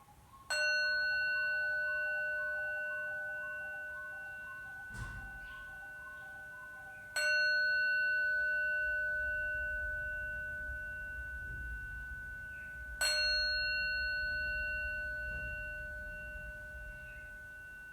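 A clear bell chimes three times to close a yoga session, each strike ringing out bright and slowly decaying in a quiet room, with long gaps between strikes.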